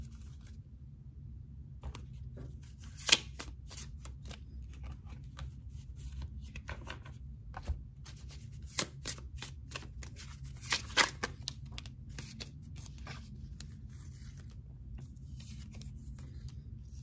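Tarot cards are handled and shuffled up close, giving soft papery rustling broken by a few sharp snaps and flicks, with no voices.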